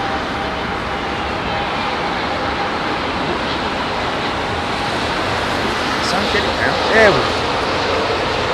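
A jet airliner comes in to land at London Heathrow in low visibility, its engines making a broad, steady roar over windy outdoor rumble, with a faint whining sweep near the end.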